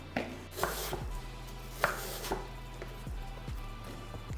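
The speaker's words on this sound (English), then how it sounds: "We're gonna cut it in thin slices." A knife cuts an apple into thin slices on a board, producing a series of sharp, close chopping taps at an uneven rhythm over a steady low background hum, with no talking.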